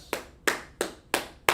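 Five sharp, evenly spaced hand claps at a class's close, each a crisp close smack fading quickly before the next, with no voices between them.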